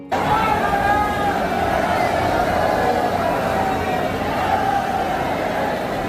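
Dense crowd hubbub at the Banke Bihari temple in Vrindavan, a continuous loud wash of many overlapping voices and movement with no single speaker standing out.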